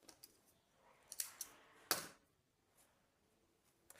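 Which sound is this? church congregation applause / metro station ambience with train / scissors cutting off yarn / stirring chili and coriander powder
scissors cutting off yarn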